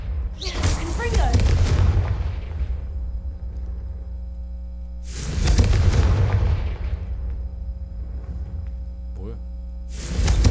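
Confringo spell explosions in Hogwarts Legacy: three deep booming blasts with rumbling tails, spaced several seconds apart, over a steady background hum.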